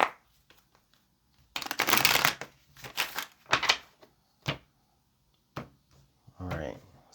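A tarot card deck is shuffled in several quick riffling bursts, close and crisp, separated by short pauses and soft handling sounds.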